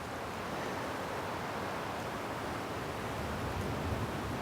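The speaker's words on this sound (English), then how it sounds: "I don't know if you can hear in the mic or not all the wind noises and the tree noises" Wind blowing through forest trees, a steady, broad rushing roar with a soft rustle, continuous and fairly loud throughout, with no voices.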